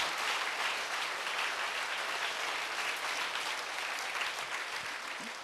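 Steady congregation applause fills a church during a Sunday worship service, a dense, even wash of clapping lasting throughout and fading slightly at the end.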